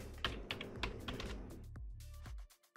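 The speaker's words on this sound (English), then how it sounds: "Now we can simply type in make." Someone types a short command on a computer keyboard while building 3D printer firmware, a quick close run of crisp key clicks with a final firmer keystroke.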